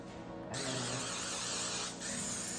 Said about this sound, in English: I use my olive oil non-stick, and I spray the heck out of this